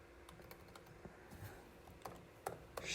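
Someone types C++ code on a computer keyboard, a run of quiet, irregular key clicks that gets a little louder and busier near the end, with no talk.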